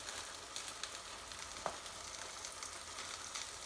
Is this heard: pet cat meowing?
no